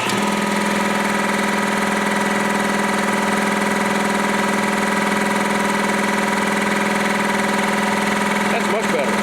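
An 80 gallon air compressor running on new vibration pads: a loud, steady mechanical drone with constant hum and vibration throughout, close by, with a brief disturbance near the end.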